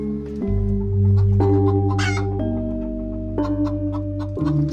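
A chicken clucks close by, just before it is slaughtered in a horror short film, with a few sharp clucks over a steady low hum.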